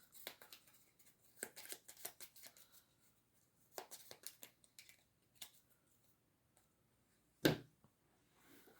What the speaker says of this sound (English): Shuffle my cards up.